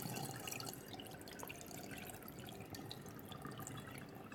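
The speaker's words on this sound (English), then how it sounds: "So we're going to strain, rinse, strain until the water's clear." Rinse water for rice drains through a strainer in a steady, continuous wash of trickling and splashing, moderately quiet and uninterrupted, with no talking.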